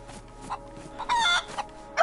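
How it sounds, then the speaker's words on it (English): A chicken in the DayZ survival game clucks in short, scattered bursts, fairly faint against a quiet outdoor background. "Chicken sounded like it was over here."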